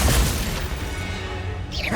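Glacius, an ice spell in Hogwarts Legacy, strikes with a dense, crashing burst at the start, a churning rumble of impact noise, then a second sharp whoosh-crash at the end.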